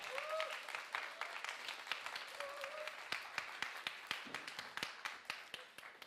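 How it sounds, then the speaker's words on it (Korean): A church congregation at a youth worship service applauds to welcome a pastor, a steady wash of many hands with scattered louder individual claps, fairly distant and soft, with a faint voice early on. "우리 박수로 모시도록 하겠습니다."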